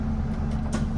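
A PKS bus engine runs just after being started at the depot, a close, constant low diesel drone with a faint higher hiss drifting over it.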